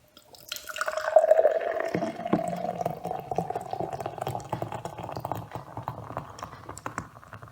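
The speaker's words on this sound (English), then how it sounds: "Give it my aggressive pour like I always do." Righteous beer from Rochester Mills Beer Company is poured hard into a glass, a steady close gurgle and splash that fades into fizzing and crackling foam.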